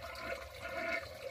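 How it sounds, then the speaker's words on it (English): Water rushes from a toilet tank into the bowl while the flush valve is held down during a wax ring replacement, a steady, moderately quiet gurgling flow. "we're going to hold it down so you can hear all the rest of the water that's in the tank"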